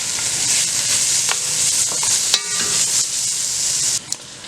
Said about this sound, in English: You're gonna cook your bacon really crispy.